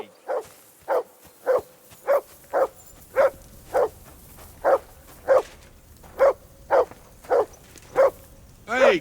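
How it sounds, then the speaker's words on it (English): A dog in the video game Kingdom Come Deliverance 2 barks close and loud in a steady run of about fifteen evenly spaced barks, with quieter ambience between them. "Hey, call off that dog and then we can talk."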